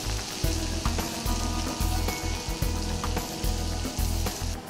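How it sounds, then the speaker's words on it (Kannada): Chopped onion fries in oil in a pan for a Mangalorean chicken biryani, a loud, steady close sizzle with a rhythmic low thumping pulse repeating roughly every half second. "So while this onion is getting fried"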